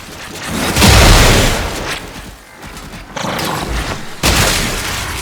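Gunfire in the Warframe video game: loud, dense bursts of booming shots that swell, thin out and then return in a sharp renewed volley, with no talking.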